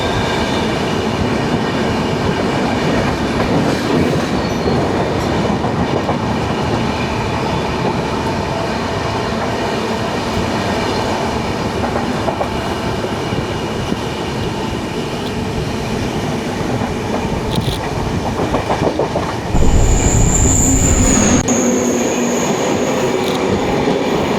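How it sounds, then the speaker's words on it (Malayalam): Vanchinad Express passenger train rolling past close by, with a loud, steady rumble of wheels clattering over rail joints and occasional squeals; a sharper burst swells near the end. "വഞ്ചിനാട് എക്സ്പ്രസ് ആണത്."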